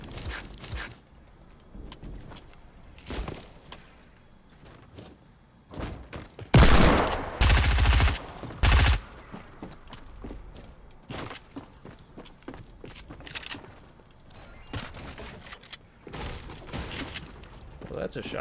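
Shotgun blasts in a video game shooter, with scattered sharp shots throughout and a loud, dense volley in the middle. A voice talks over the gunfire.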